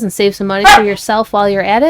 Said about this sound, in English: I'm sorry about my dog. She's very vocal tonight.